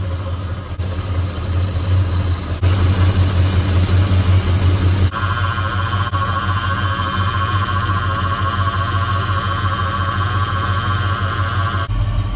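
The engine of a 1977 Ford F150 4x4 runs loud and steady at close range, while its power steering pump adds a thin, sustained whine over the low rumble that grows sharper about halfway through.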